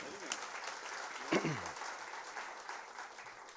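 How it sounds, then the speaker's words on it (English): An audience at a cadet felicitation programme claps steadily at moderate volume, with a brief voice cutting through early on. "Let's appreciate her. Let's clap."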